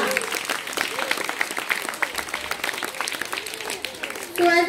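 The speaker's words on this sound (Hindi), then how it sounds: "give a big hand to our dancers" Children's school audience clapping for young dancers after a class comedy skit, a dense, steady patter of applause at moderate distance with murmuring voices under it and a speaking voice breaking in at the end.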